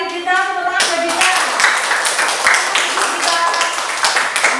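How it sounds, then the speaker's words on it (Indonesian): Classroom of students clapping for a classmate, dense continuous hand claps at close range with some voices mixed in. "Tepuk tangan buat Dita."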